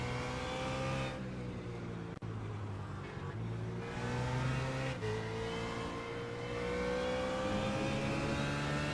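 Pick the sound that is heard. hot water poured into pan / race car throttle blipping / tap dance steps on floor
race car throttle blipping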